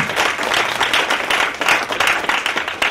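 An audience breaks into applause, dense, steady clapping from many hands filling the room at full volume throughout.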